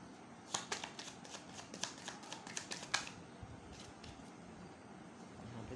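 Tarot cards are shuffled and drawn by hand, a quick run of soft riffling flicks and snaps lasting a few seconds, then near silence, all faint and close.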